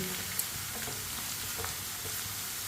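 Potatoes frying in a pan for a karela aloo sabzi while a spoon stirs them, giving a steady close sizzle with faint scraping stirs and no talk.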